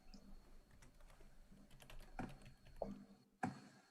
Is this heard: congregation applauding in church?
no